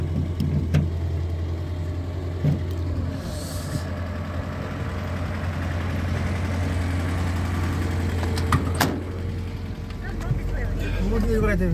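A UAZ 452 Buchanka van's engine idles with a low, steady rumble throughout, joined near the end by a deeper surge. Occasional clicks and knocks sound close by, and someone talks over it.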